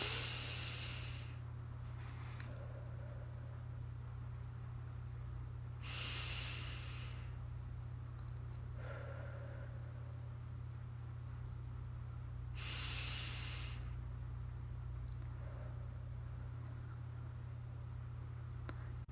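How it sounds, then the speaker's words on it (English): Three slow, deep breaths are taken in unison as a calming exercise, each a soft, airy inhale-exhale spaced several seconds apart over a low, steady background hum. "let's just take 3 deep breaths together"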